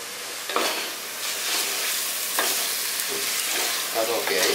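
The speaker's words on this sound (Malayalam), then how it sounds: "അപ്പൊ ഇനി നന്നായിട്ട് വഴറ്റിയെടുക്കണം." Sliced onions sautéing in oil for a flattened-rice chicken biryani, a loud steady sizzle broken by several sharp scrapes and clatters of a spoon stirring the pan, close up.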